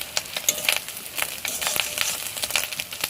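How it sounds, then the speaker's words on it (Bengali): An egg frying in a pan crackles and spits with irregular sharp pops over a continuous sizzle, close and fairly loud, with no talking. "দেখো ডিমটা আরেকটু ভেজে নিই ভালো করে"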